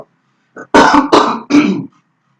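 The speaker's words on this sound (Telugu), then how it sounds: "దగ్గు వచ్చింది." A man clears his throat and coughs: a short rasp followed by three heavy, close coughing bursts in quick succession, loud against otherwise quiet surroundings.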